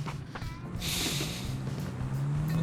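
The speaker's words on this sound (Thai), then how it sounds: "มีเสียงสตาร์ทเครื่องมึงเหรอ" A car engine in the video game PUBG turns over and settles into a low, rising hum, with rushing noise around it.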